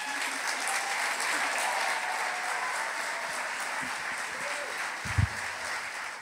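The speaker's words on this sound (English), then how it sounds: "Your applause." Steady, moderately loud audience applause after a science slam talk, continuous clapping from a seated crowd with a brief thump near the end.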